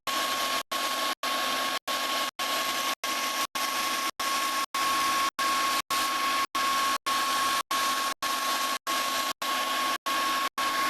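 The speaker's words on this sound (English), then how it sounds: "I'll also grind the profile of the blade in order to have a straight edge" Grinding the profile of a hand-forged knife blade to a straight edge gives a steady, loud abrasive whine with a faint ringing tone, broken by short, evenly spaced pauses.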